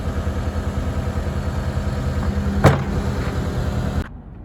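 A John Deere 320D skid steer engine idles steadily and loudly, then a brief sharp knock sounds before the engine cuts off, leaving near silence.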